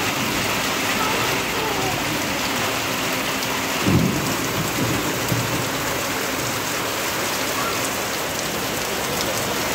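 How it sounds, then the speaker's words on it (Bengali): Heavy rain pours down steadily and loudly, with a low rumble of thunder breaking in near the middle before the downpour carries on unbroken. "দেখেই বুঝতে পারছেন কি জোরে বৃষ্টিটা হচ্ছে"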